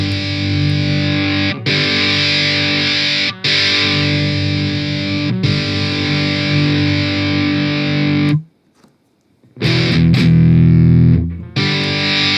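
A bass run through the Amplitube amp simulator with its gain turned up gives a thick, distorted, sustained tone in long held notes broken by brief gaps and one near-silent pause, loud and close.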